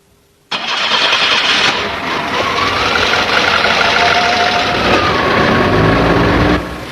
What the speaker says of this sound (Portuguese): é só dar a partida no motor e aguardar que ele atinja a temperatura normal de trabalho